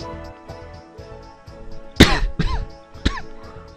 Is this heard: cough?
yes